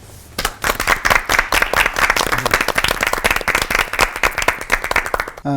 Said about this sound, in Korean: 두 분 크게 박수로 모셔보죠.